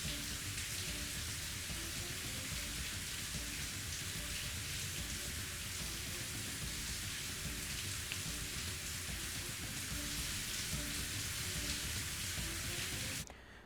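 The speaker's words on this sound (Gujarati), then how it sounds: "ભારે પવન સાથે વરસાદ વરસ્યો" Heavy rain driven by strong wind from Cyclone Tauktae pours down in a dense, unbroken hiss, loud and steady throughout with no voices.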